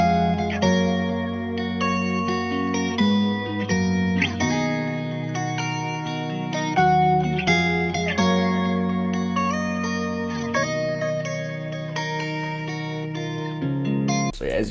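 Sample loop from a song, a steady, richly layered melodic pattern with sustained harmonic tones and effects-heavy reverb and distortion, playing continuously with no voices.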